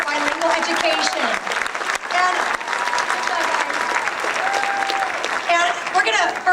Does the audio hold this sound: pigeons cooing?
no